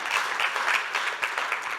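Audience applause at a Black Hat Asia conference session fills the space in a dense, steady patter of many hands clapping at once, fairly close and continuous with no voices on top.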